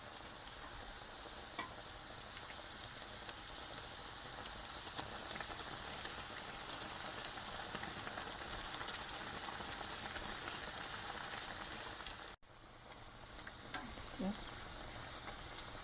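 St. Joseph's zeppole fry gently in hot oil over a lowered flame, giving a soft, continuous sizzle at low volume with a few faint pops and clinks near the end.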